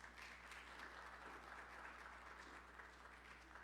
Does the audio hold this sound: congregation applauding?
yes